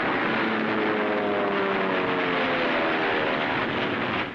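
A WWII warplane in 1943 combat over Tarawa, its propeller engine a loud, steady droning roar with a faint harmonic hum running through the whole stretch, fading slightly at the end.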